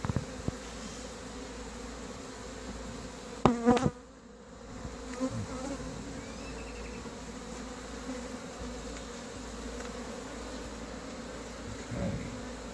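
Honey bees buzz steadily in an opened hive during queen cell removal, a continuous low drone with a brief louder rustle and knock partway through.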